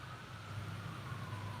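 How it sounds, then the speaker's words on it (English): An ambulance fitted with two front sirens passes, its wail steady and fairly faint over a low road rumble in a brief stretch with no talking. "It's easy to tell where we live because our ambulances have two sirens on the front,"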